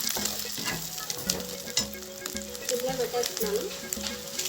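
Ginger garlic paste and curry leaves frying in oil for prawn pickle: a close, steady sizzle with occasional stirring, under a soft voice and faint music.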